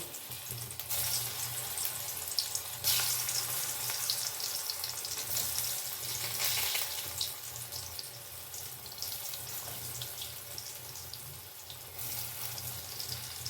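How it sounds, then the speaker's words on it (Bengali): Lentil dhoka pieces fry in hot oil in a kadai, giving a continuous hissing sizzle with soft bubbling swells, moderately loud and unbroken throughout. "এবারে আমি সব ধোকাগুলো একে একে ভেজে তুলে নেব।"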